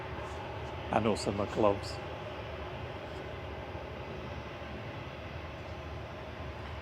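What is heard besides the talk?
Lufthansa Airbus A321 departing Manchester Airport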